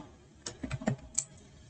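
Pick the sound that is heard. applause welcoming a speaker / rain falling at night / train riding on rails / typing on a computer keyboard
typing on a computer keyboard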